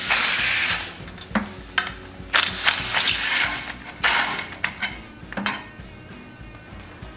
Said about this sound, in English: 1/2-inch socket. We'll take the bolts out that hold the manifold back.